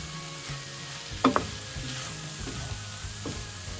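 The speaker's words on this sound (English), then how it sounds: "I'm going to add with my veggie mixture right now. I will go ahead, give it a nice stir." A vegetable mixture for a casserole is stirred in a sizzling pan, with a low steady sizzle, a couple of sharp utensil clinks near the middle and softer scraping strokes afterward.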